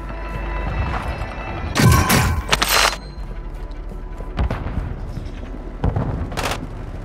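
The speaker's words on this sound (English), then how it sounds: "Friendly mortar strike on the way." Mortar strike explosions in the video game Call of Duty Warzone 2: a heavy nearby blast with rumble, then a few further booms of varying loudness scattered across several seconds over battlefield ambience.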